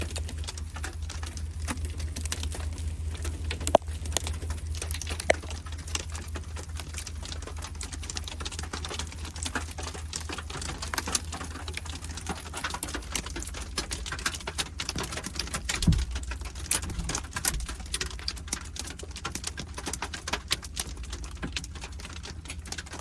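Dense, irregular tapping patters continuously over a low rumble, like many small hard pellets striking surfaces nearby, with no voices.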